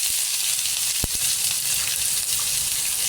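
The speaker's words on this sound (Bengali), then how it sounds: "তেলটা আমার একটু বেশি গরম হয়ে গেছে, দিয়ে দিলাম একটু রসুন বাটা, একটু আদা বাটা আর পেঁয়াজ" Garlic paste, ginger paste and onion hitting overheated oil, a dense continuous hiss of sizzling with a single low thump near the middle, close and without voices.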